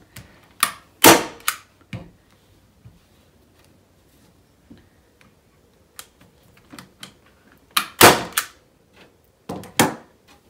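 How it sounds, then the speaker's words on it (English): Staple gun driving staples through fabric stretched onto a rectangular punch needle frame, several sharp loud snaps spaced irregularly with quieter handling clicks and rustles between them. "I will just hold the one side steady while I let the other one go so I can staple it"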